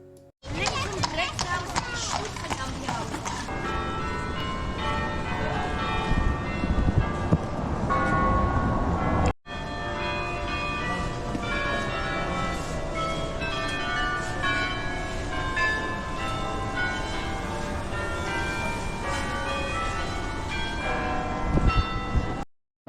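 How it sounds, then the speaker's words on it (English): A peal of many bells ringing continuously from the 47-bell Belfry tower in Bruges' Markt Square, dense and resonant, with a brief break partway through before the ringing resumes. "This tower has 47 bells."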